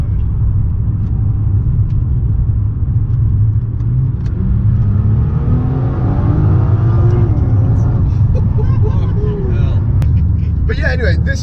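A Nissan GTR driving in race mode, its engine a deep steady rumble heard from inside the car, with road noise and talking over it.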